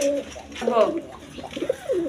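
A pair of shirting pigeons cooing up close, soft throaty rolling coos repeating in short phrases across the moment.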